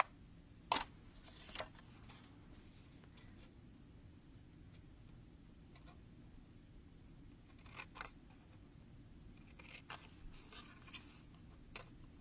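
Scissors cutting paper for a handmade Christmas card: a few faint, crisp snips spread out over a low steady background hiss, with no voices.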